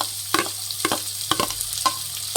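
Two finely chopped onions dropped into hot oil for hotel-style shavige uppittu, a steady close sizzle broken by several sharp scrapes of stirring at regular intervals, no talking.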